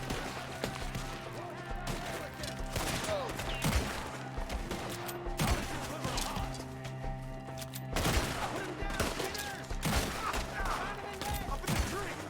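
Gunfire in a Red Dead Redemption 2 shootout crackles as a dense, continuous volley of overlapping shots throughout, with shouting voices over it.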